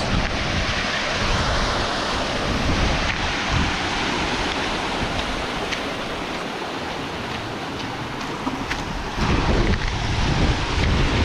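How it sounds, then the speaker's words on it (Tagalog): Mountain waterfalls pour and roar as steady, dense broadband rushing water, loud and close throughout with no voices. "Ang daming falls."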